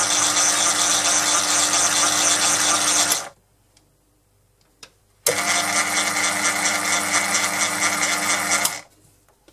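Proxxon PD 250 e mini lathe cutting a thread on a custom tap, a loud steady whirring motor run that stops, pauses briefly with a faint click, then starts again and stops.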